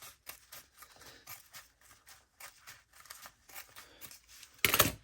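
Scissors snip through junk mail paper in a quick series of crisp cuts with short pauses between them, close and clear, ending in a louder tearing rip of paper.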